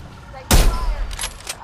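Gunfire in Apex Legends cracks out as one loud close shot with a few quieter follow-up reports fading over the next second.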